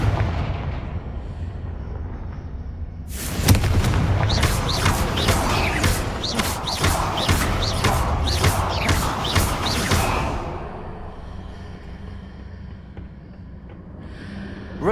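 Confringo explosive spell from Hogwarts Legacy fired in a rapid string of about ten sharp, loud blasts, each with a crackling burst, ringing out for several seconds over a low rumbling game background before fading.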